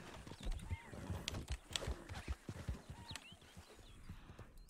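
A galloping horse in the video game Red Dead Redemption 2, with rapid hoof thuds pounding through a busy, noisy game scene, the hoofbeats fairly close and steady throughout.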